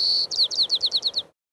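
Sparrow song in a higher-pitched version, opening with a sustained whistled tone followed by a quick run of about seven sharp descending chirps, clear and close, alone with no talking.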